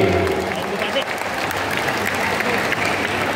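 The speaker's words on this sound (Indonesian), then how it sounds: "Tepuk tangan Bapak Dedi." A crowd claps steadily and warmly, the applause filling the room at an even level from start to finish.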